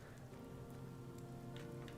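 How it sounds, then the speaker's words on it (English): Rain falls steadily in the Blue Reflection video game, a faint, even hiss of drops with a few soft taps, alone and unchanging throughout. "it's raining."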